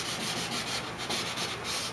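Hand sanding a 2004-2006 Pontiac GTO headlight lens with 400 grit sandpaper, soft rhythmic back-and-forth rubbing strokes, fairly quiet and close, with no voices.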